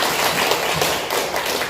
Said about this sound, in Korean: 뒤에서 우리 임영희 권사님 박수 한번 주세요.